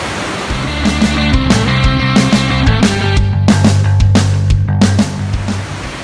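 A huge river waterfall swollen by heavy December rains gives a steady, loud, close rush of broadband white-water noise that runs throughout with little variation.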